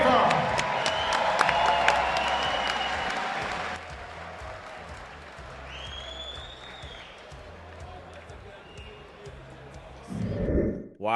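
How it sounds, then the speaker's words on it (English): Applause and crowd noise at an MMA fight night, a broad wash of clapping with a voice and tonal sounds over it, then a brief louder burst near the end. "Come on, give a big Fight Club applause."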